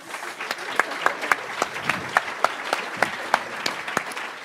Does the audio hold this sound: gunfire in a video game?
no